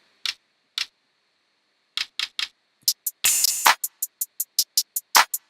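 A clicky percussion sample in a happy Lil Uzi-type beat: sparse ticks, then a quickening run of sharp clicks broken by a short burst of bright noise. All hits are close, crisp and alone.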